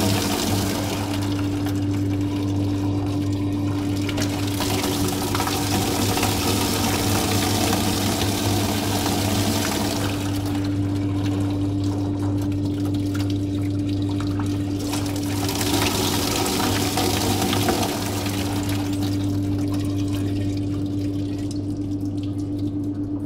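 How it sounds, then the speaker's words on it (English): Water rushes steadily through a laboratory pipe friction system as a gate valve is opened and closed, a loud continuous hiss over a low mechanical hum, with the flow noise swelling and easing in a few broad surges. "By several closing and opening the gate valve, the system will get rid of all air bubbles."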